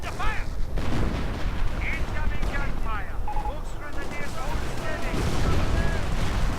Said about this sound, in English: And the German infantry positions are getting hit by 25-pounder fire.